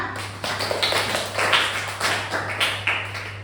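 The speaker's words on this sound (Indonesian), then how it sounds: "Beri tepuk tangan bersama temannya." Children in a classroom clap their hands together, a dense run of claps with a few stronger group bursts repeating every half second or so, alone over a steady low hum.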